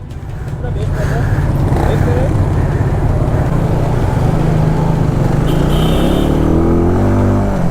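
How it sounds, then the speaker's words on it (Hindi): A group of around fifty motorcycles sets off together on a club ride in Karachi, producing a loud, continuous roar of engines close by that builds up in the first second and then holds. "आप देख सकते हैं कि सारे बाइकर्स जा रहे हैं।"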